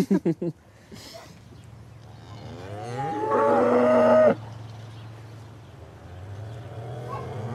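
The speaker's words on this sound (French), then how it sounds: "Allez, on va aller voir les vaches." Jersey cows mooing in a pasture on a Breton island farm, a long loud low moo swelling near the middle after a few faint calls, with people talking nearby before and after.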